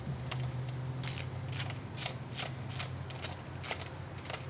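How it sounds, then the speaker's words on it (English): A ratchet wrench backing off bolts on the intake manifold of a 1994 Toyota Celica GT with a 5S-FE engine, a rapid run of close metallic clicks in an even rhythm over a low hum. "You're going to want to back these bolts off right here where the throttle cable was held to the intake manifold"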